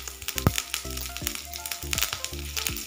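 Curry leaves drop into hot coconut oil with popped mustard seeds, giving a steady close sizzle with a sharp crackle near the start and scattered pops throughout.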